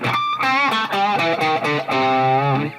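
Distorted electric guitar riff stepping down the pentatonic scale with passing tones, a run of sustained, overdriven notes separated by brief gaps, loud and close with no talking.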